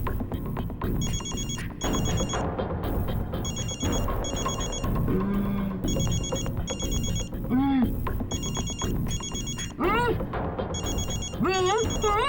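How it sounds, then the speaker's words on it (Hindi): A telephone rings repeatedly in regular bursts, steady and clear, over background music and voices talking. "तारिका फोन क्यों नहीं उठा रही?"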